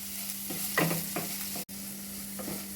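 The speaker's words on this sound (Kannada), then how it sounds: "ಒಂದು ಸ್ವಲ್ಪ ಕೊತ್ತಂಬರಿ ಸೊಪ್ಪು ಇಷ್ಟನ್ನು ಹಾಕ್ಕೊಂಡು ನೀಟಾಗಿ ಮಿಕ್ಸ್ ಮಾಡ್ಕೊಳ್ಳಿ ಉರಿ ಕಮ್ಮಿ ಇಟ್ಕೊಳ್ಳಿ" A goli idli mixture with grated coconut and coriander leaves is stirred in a pan on low flame. A few soft scraping strokes and a light sizzle sound close by over a steady low hum.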